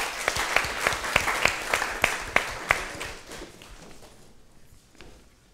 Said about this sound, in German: Erstmal Applaus für euch.